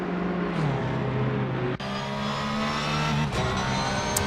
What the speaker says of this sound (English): let's have a little listen to the Porsche